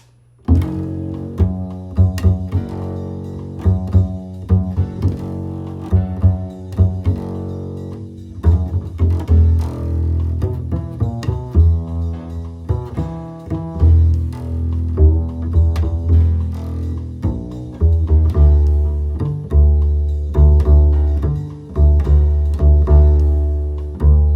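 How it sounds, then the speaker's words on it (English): Jazz piano plays moving chords over a single low bass note held and repeated throughout, on the bridge of a jazz standard, the harmony shifting above while the bass stays put. "we're playing the same bass note through changing harmonies"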